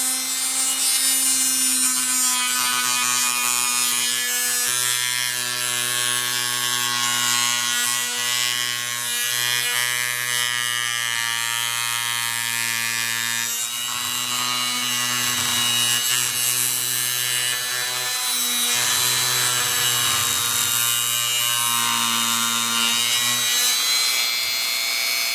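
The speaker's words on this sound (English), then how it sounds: "But use your Dremel on a low speed because we don't want to melt plastic." A Dremel rotary tool grinds a plastic XL motor part at low speed, a steady high-pitched whine with harmonic tones that dips briefly and resumes, running continuously and loud without any talk.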